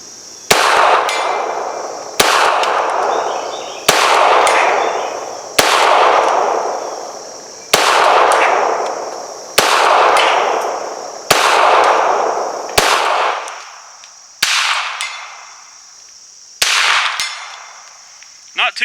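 Ruger Mark IV Hunter .22 handgun fired at a 120-yard target outdoors, about ten sharp cracks spaced roughly two seconds apart, each with a ringing tail, loud and close with no talk.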